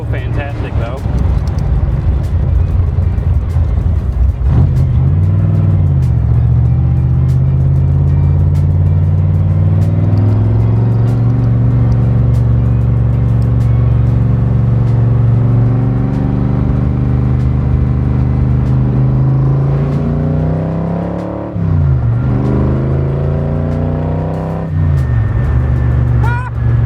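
A 480 cubic inch stroker engine in a Cobra with a 5-speed drives steadily, its loud low drone holding throughout with shifts and brief revs near 5, 21 and 25 seconds, and a person talking over it.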